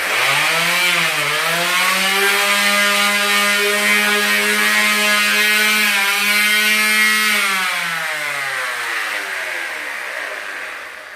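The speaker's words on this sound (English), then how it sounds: "The next step would be to sand down your wood, especially if it's rough." Wood for a picture frame is sanded down with a power tool, making a loud, steady motorized whine that dips and holds its pitch before slowly winding down near the end, close up with no talk.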